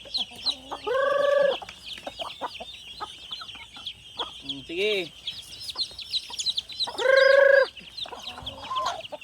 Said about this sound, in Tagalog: May mga sisiw dito yung bago, sisiw ng manok.